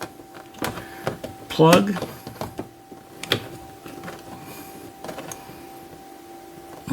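A cordless screwdriver drives self-tapping screws while an in-dash battery monitor is installed, giving short, close whirring motor bursts between pauses, with someone talking intermittently.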